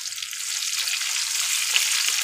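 Chopped onion frying with dal spices in a pan gives a steady, close sizzling hiss that holds evenly throughout, with no one speaking.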